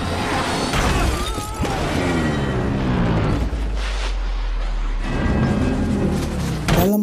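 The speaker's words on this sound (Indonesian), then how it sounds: "menyebabkan 3 truk milik Owen terbalik lalu meledak" Three trucks overturn and explode after a truck rams an oil tank in an action movie scene, giving a loud, sustained roar of blasts and shattering debris with a heavy low rumble and a fresh burst near the end.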